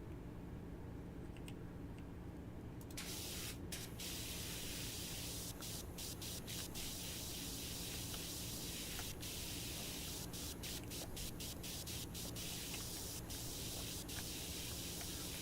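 A big-nozzle pressure washer in the video game Power Wash Simulator sprays continuously, producing a loud, steady hiss with faint clicks on top.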